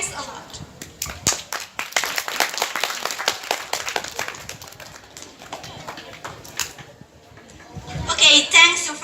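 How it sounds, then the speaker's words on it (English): Audience applause for a speaker at a school English debate final, a burst of many hands clapping that thins out midway, then a louder flurry with raised voices near the end. "Give applause, please."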